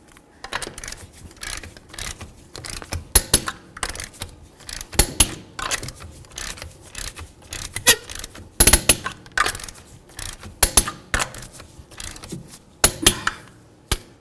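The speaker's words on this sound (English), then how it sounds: "Let's torque these to 100 foot-pounds." A torque wrench tightens the rear wheel hub bolts on a 2007–2014 Ford Edge to 100 foot-pounds, giving sharp ratcheting clicks in irregular clusters, close and crisp against a quiet garage.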